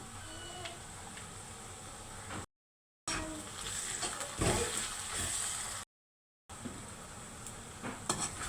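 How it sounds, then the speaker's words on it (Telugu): Ginger garlic paste fries in hot oil in a pan for an onion tomato curry, a continuous close sizzle broken by two short silent gaps, with a spoon stirring and scraping now and then. "ఇప్పుడు అల్లం వెల్లుల్లి పేస్ట్ వేస్తున్నాను"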